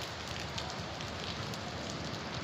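Heavy rain pours down in Manila as a dense, even hiss that holds steady throughout, with no voices.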